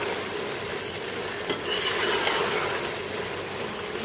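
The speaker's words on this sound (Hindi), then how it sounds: "अब इसमें से थोड़ा सा दही में भून लेंगे।" Black chickpeas sizzle in yogurt in a cooking pot, a steady, dense frying hiss with faint stirring underneath and no talking.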